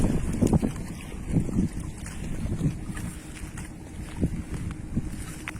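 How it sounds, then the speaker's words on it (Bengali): A small fishing boat passes on a river at a launch ghat in Bangladesh, heard as a pulsing low rumble mixed with gusty wind noise and lapping water, moderately close and without talk. "একটি ছোট মাছ ধরা নৌকা যাচ্ছে"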